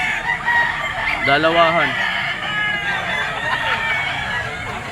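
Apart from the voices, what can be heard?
young roosters (stags) crowing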